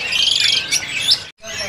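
A caged blue cucak songbird, a female, at a bird seller's stall gives bright, loud chirps and warbling trills close by, broken by a brief pause before the calls resume.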